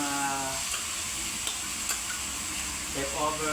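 Chayote pieces tumble into a pan of frying cabbage, Baguio beans and chicken, followed by a steady close sizzle with stirring scrapes and a brief splashy burst near the end.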